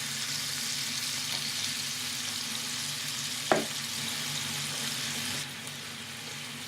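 Food sizzles steadily in a hot frying pan during a home cooking session, a continuous close broadband hiss with one brief sharp crackle midway and a slight drop in intensity near the end.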